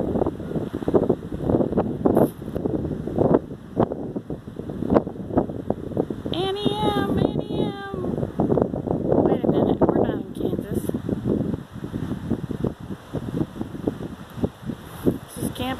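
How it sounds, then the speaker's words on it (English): Wind gusts across the microphone at a lakeside campground at Lake Shelbyville on a blustery day, a constant buffeting rumble heard throughout beneath someone speaking. "The wind has died down a little bit."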